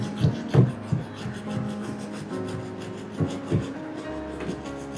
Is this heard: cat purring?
no